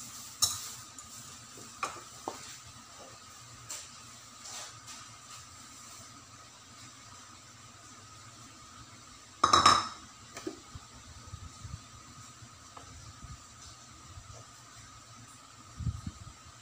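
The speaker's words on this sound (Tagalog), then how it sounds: "Dandahan lang natin siyang haluin para hindi magtalsikan." Glutinous rice for homemade kakanin is stirred slowly in a pot, making faint, sparse scrapes and light clinks, with one sharper knock of utensil against pot partway through.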